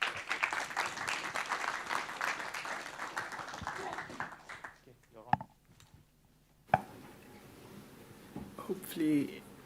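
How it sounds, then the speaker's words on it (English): Conference audience applauding to welcome a speaker at a Python conference, dense clapping for about four seconds that fades out, followed by quiet room noise and a few faint sounds. "can I ask for a round of applause to welcome our speaker today, Sanskar?"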